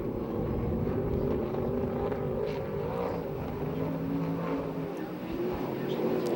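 A USAC sprint car runs a lap at Perris with a sustained, loud engine roar whose harmonic tones shift smoothly as it circles the track.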